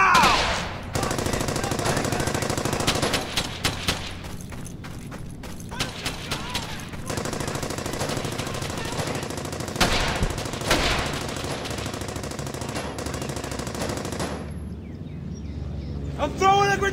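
Rapid bursts of rifle and machine-gun fire crackle through a World War II battle in the game Brothers in Arms: Hell's Highway, loud and almost continuous, with shouting voices mixed into the din.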